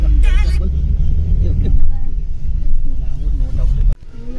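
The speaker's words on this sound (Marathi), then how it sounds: "ट्रॅफिक बघा मित्रांनो किती आहे." Road traffic on a mountain road in Solang Valley rumbles with passing vehicle engines close by, fairly loud, under people talking.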